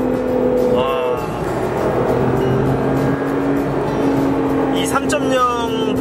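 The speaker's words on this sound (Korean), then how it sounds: "엑셀을 놨을 때 소리, 우웅 하는 소리" Porsche 911 GTS with a 3.0 V6 twin-turbo engine, driven in Switzerland, hums steadily as the throttle is released, a continuous droning engine note heard from the cabin, loud and sustained throughout.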